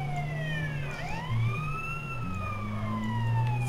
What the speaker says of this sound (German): wir klauen uns doch schnell den Krankenwagen und dann...